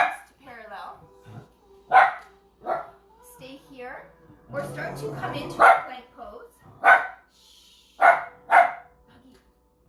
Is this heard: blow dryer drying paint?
no